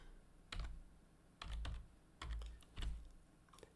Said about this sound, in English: In the Windows search bar, type RS Links.